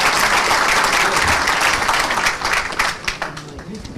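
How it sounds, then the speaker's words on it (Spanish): Strong audience applause at a criminal procedure law conference for Dr. César Nakazaki Cerribón, a loud, dense burst of many hands clapping that thins and becomes more ragged toward the end. "Fuertes palmas para el doctor César Nakazaki Cerribón, por favor."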